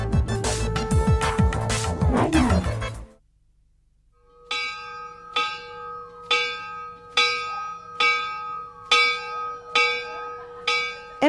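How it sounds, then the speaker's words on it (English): A temple bell in Neguma, Sri Lanka, tolls in a steady rhythm, about eight clear metallic strikes each ringing out and decaying, after a loud burst of other sound and a brief silence. "when the bell tolls at the temple at an unusual hour, it usually means trouble"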